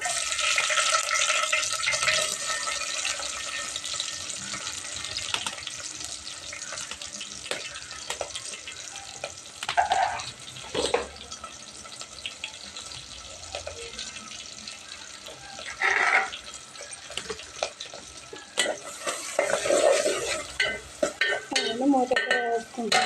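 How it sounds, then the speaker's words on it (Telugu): Green chillies and onion pieces fry in hot oil in a home kitchen, giving a continuous sizzle with intermittent stirring scrapes and clatters, loud and close throughout. "ఫస్ట్ పచ్చిమిర్చి ఉల్లి ముక్కలు అయితే వేసుకోవాలి"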